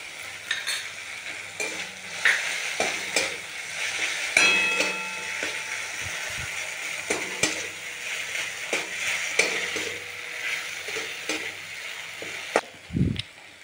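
Garlic paste fries in a pan for an egg mustard curry, a soft continuous sizzle broken by scraping spoon strokes and metallic clinks against the pan, and a low thud near the end, with no talk.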